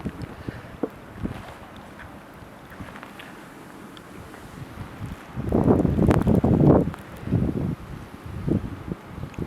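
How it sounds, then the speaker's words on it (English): Strong wind gusts buffet the microphone during a blizzard along a snowy main street, rising into a loud roaring burst midway, with scattered rustling and thumps around it. "It's a lot here, and it is so windy out right now."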